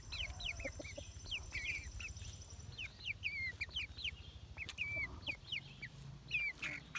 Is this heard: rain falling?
no